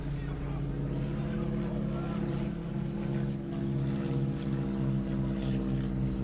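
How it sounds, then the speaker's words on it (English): Three propeller planes, two of them biplanes, fly over a military vehicle and reenactor meeting in formation, a steady loud droning engine rumble that holds throughout with faint talk beneath it. "3 planes are flying over the grounds in formation, and there are even 2 double-deckers among them."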